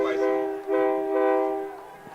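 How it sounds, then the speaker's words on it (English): A train horn blows a long, steady, harmonic blast near a high school football stadium during a night game, sounding for about two seconds with a brief dip midway, fairly loud and clear over faint crowd noise. "the train whistles are blowing tonight"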